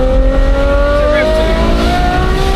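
A McLaren 765LT engine revs loudly and close, a sustained rising engine whine that climbs steadily in pitch over a couple of seconds, with no clear talking over it.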